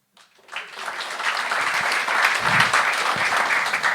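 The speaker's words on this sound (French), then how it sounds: "Par applaudissement." Audience at a comedy show breaks into sustained applause and clapping that rises quickly and holds steady, a loud full room with a few faint voices mixed in.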